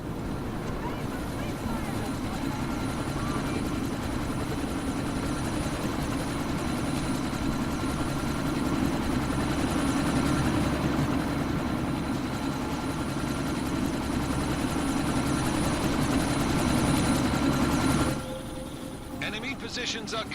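Helicopter rotor and engine drone in Deus Ex: Mankind Divided, a steady loud whirring rumble sustained for most of the stretch before cutting off abruptly near the end, with voices talking over it.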